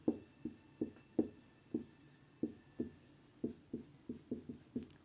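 Pen strokes writing notes in a physics class, a steady series of about a dozen short scratchy taps and scrapes at a quick, even rhythm, close and fairly quiet, with no talking.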